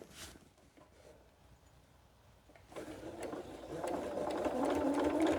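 A sewing machine stitches quilt pieces together for a Christmas star Santa cookie rug, starting quiet after a few soft handling clicks, then running in a steady, rising mechanical whir that grows louder toward the end.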